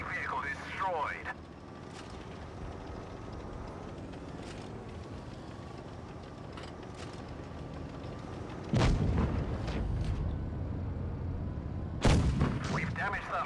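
Tank cannon shots and explosions from a World of Tanks Blitz battle with a Badger tank destroyer, two sharp heavy booms standing out over a steady engine rumble and game sounds, with game voice lines heard throughout.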